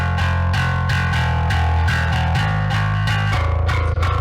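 Heavily limited electronic music mix with peaks squashed by a limiter into distortion, dense rhythmic pulses and sustained low bass, loud and saturated throughout without any voices.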